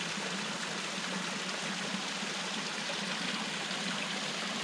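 Clean, uncontaminated stream water flows steadily outdoors near a large boulder, a constant close rushing and trickling with no pauses and no voices.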